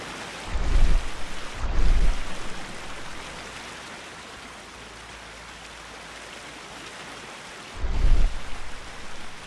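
Loud rushing water and rain in the Sherlock Holmes: The Devil's Daughter game, a constant wash of noise with three heavy low thumps rising above it.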